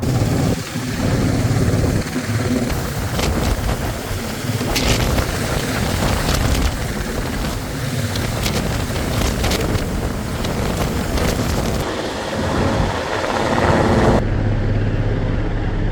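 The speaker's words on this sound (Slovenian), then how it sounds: "Evo, zdajle čakamo pa helikopter." Heavy, continuous rotor thudding and roaring wind buffet the microphone as a helicopter hovers loudly nearby in the Slovenian mountains while airlifting a bivouac hut, with a brief dip near the end.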